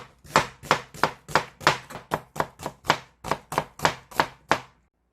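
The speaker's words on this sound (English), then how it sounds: "Cut onion like this." A knife slices through an onion on a cutting board in about fifteen crisp, evenly spaced chops, close and clear with no voices, ending in silence.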